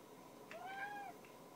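A cat gives a single short, faint meow indoors, a rising-then-falling tonal cry against quiet room noise.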